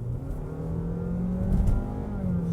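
A Honda Jazz with a 1.5-litre engine pulls hard under acceleration, its engine note rising smoothly in pitch from inside the cabin, with a brief surge midway and steady road rumble beneath.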